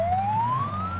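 A police car siren sound effect, a single clear rising wail sweeping upward in pitch, loud and close, over a low background hum.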